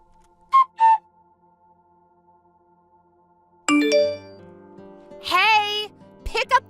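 A phone rings for an incoming call, a short two-tone chime followed after a pause by louder melodic ringtone bursts with rising and falling tones, close and clear with no talk over it.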